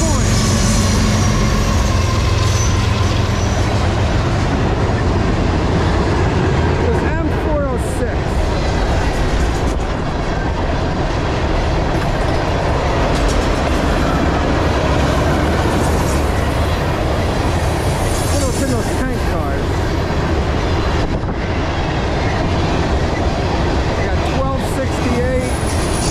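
A CSX freight train, M406, runs hard at full throttle on the Lehigh Line, with a loud, continuous rumble and grinding roar of wagons that holds steady close by from start to finish, with faint speech beneath.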